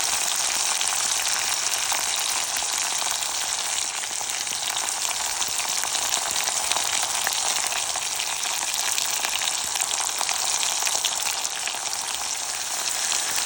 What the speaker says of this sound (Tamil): இந்த தக்காளி போட்டு நல்லா வதங்கணும்.